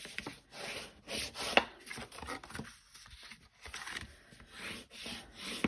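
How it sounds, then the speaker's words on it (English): Card-making paper is folded over and the crease rubbed flat, giving repeated soft, dry rubbing strokes close by, with short pauses between passes. "So you fold it over and then sort of rub it along."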